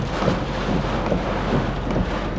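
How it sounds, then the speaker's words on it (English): Heavy rain pours down outside a truck, a dense, steady broadband roar with no breaks, loud and close throughout. "It's so hard to capture rain in video, but it's pouring."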